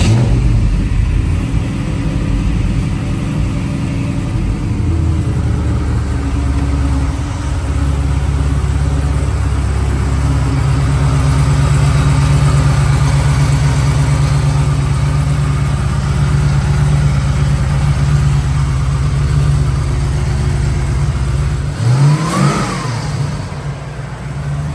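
A Chevrolet Nova V8 fitted with a two-stage catch can idles with a steady low rumble. Near the end it gives one sharp rev that rises and falls, and no one speaks.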